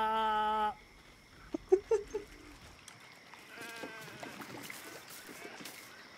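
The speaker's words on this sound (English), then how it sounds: "These sheep are weird." A sheep in Baldur's Gate 3 gives one loud, clear bleat at the start, followed by quieter scattered game clicks, thuds and a faint rustling ambience.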